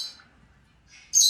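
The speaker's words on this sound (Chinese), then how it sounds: "你到底是不是只喜鹊哟？" A young pet magpie gives a few faint short chirps, then a sudden loud, harsh squawk close up at the end.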